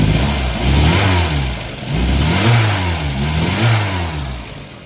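A Volkswagen Golf Mk1 petrol engine, tuned to 1.5% CO, idles close by with a low, slightly lumpy rumble that rises and falls in gentle surges.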